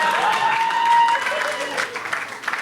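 Audience clapping after a joke at a variety show, a brief scattered round of hands mixed with a voice and murmurs, fading unevenly toward the end.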